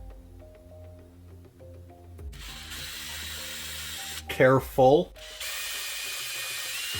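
A power drill bores into a Tusken Raider mask face plate in two short, loud whining bursts, with quieter workshop noise around them. A person speaks briefly before the drilling.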